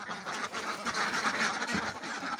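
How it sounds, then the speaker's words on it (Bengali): A flock of farm ducks leaving their shed, loud overlapping quacks in quick bursts close by, continuing throughout without pause. "দেখেন হাঁসগুলো কিন্তু সব বেরোয় যেতেছে।"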